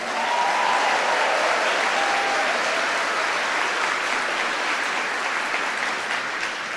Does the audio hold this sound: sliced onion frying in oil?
no